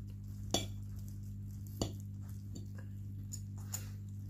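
Cutlery slices through a boxed rice-and-viand lunch in a quiet hotel quarantine room, giving a few sharp, faint clicks and scrapes spaced apart over a steady low hum.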